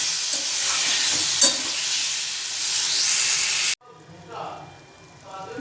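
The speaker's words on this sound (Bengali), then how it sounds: "দেখুন এরকম ফুটছে আর আমটাও সিদ্ধ হয়ে গেছে" Steady, close bubbling and sizzling from a pan of raw mango chutney boiling on the stove, broad and hissy, then a sudden drop to a quieter simmer with faint clinks.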